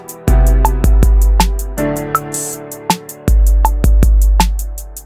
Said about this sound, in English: So with that hi-hat going, it sounds a lot more like a trap beat.